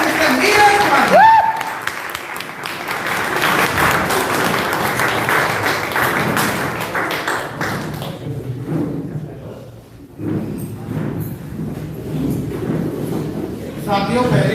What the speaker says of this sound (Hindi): आप सबकी जोरदार ताली के साथ आपकी वेलकम करते हैं